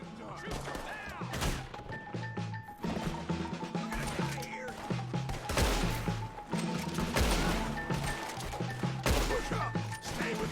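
Repeated gunshots and crashing impacts erupt during a Red Dead Redemption 2 shootout, dense and irregular bursts over a steady bed of game sound and music.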